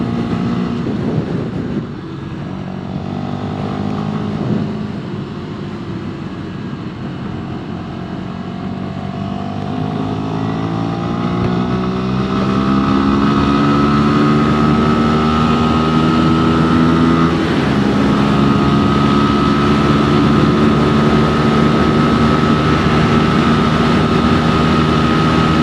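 A Sinnis SM-XE motorcycle rides at speed along a dual carriageway. Its engine drones loud and close, with the pitch climbing steadily as it accelerates, then holding at a sustained high whine over constant wind rush.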